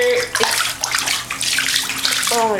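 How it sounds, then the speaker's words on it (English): Water is emptied into a bathtub during an apartment flood, a steady loud pouring and splashing rush that runs through the whole stretch with no pause. "We have to empty this thing out into the tub like 10 times"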